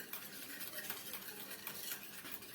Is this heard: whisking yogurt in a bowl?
yes